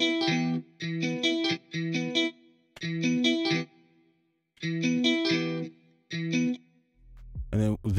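MIDI guitar strums played back in FL Studio 21, heard as repeated bright plucked chord bursts in short groups with brief gaps between them, effect-processed and carrying a chorus-like shimmer, followed at the end by a low thump.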